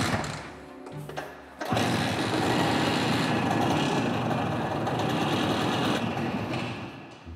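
A two-stroke 175cc motorcycle engine starts up and runs with a loud, buzzing, steady drone that holds for several seconds without talk.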